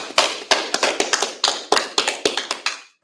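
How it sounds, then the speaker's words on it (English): A handful of sharp, separate claps ring out at an uneven pace during a scripture class, loud and close with short gaps between them and no talk over them. "Clap it up."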